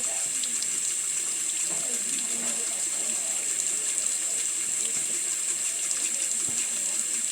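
Hot tap water runs steadily into a sink during rinsing, a constant close broadband hiss with faint handling noises underneath and no talking.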